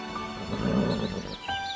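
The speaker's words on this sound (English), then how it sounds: "My mother and some of the other horses neighed to me from the pasture." Horses neigh from a pasture as a story sound effect, a drawn-out whinny rising and wavering over a steady ambient bed, moderately loud and close.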